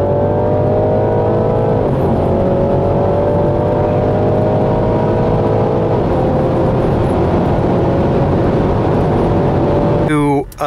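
A BMW G20 330e launches hard from a standstill, its drivetrain whine climbing steadily through gears with brief pitch drops at each shift, loud and close for about ten seconds before cutting off sharply.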